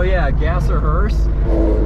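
A classic Pontiac, a GTO or Grand Prix, rumbles past at a car cruise, close and loud with a shifting engine tone, while people chat over it.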